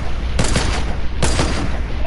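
Video game gunfire crackles in two sharp bursts, each a quick rattle of shots lasting a fraction of a second, separated by a brief pause, loud and close over a steady background hum.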